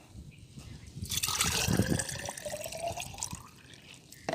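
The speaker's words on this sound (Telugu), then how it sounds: "దీంట్లో కొంచెం వాటర్ అయితే పోసేసుకున్నాము" Water pours and splashes into a container, a steady liquid rush building then easing over a few seconds, with light trickling toward the end.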